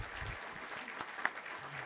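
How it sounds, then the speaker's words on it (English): A short burst of audience applause at a college presidents' breakfast, moderate and mid-distance, with a brief voice or sharp sound near the end. "Let's give them all another big round of applause"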